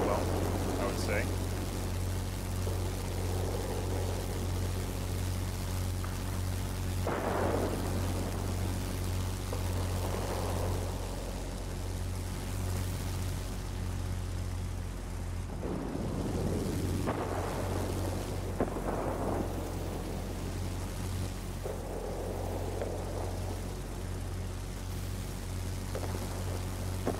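Rolling thunder and rain bursts in the World of Warplanes video game sit over a constant low aircraft-engine drone, the rumbles swelling at intervals throughout.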